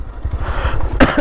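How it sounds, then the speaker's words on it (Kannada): A person with a cold lets out two quick, harsh coughs close up near the end, after a low rumbling background. "ಕೆಮ್ಮು ಗುರು ಸಿಕ್ಕಾಪಟ್ಟೆ ಕೆಮ್ಮಾಬಿಟ್ಟಿದೆ ಯಾಕೋ ತಂಡಿಗೆ."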